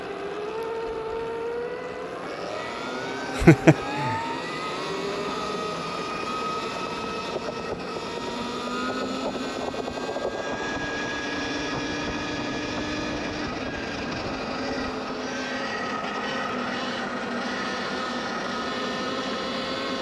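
A 55 hp Stark Varg electric dirt bike rides on a road, its motor giving off a steady, rising and falling electric whine with rushing wind. A brief sharp knock or clunk stands out early on.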